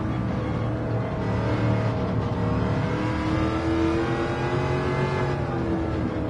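The V8 engine of a Shelby Cobra 427 roadster in Gran Turismo 7 drones steadily with a deep, rumbling tone, rising and falling slightly in pitch as it holds revs throughout.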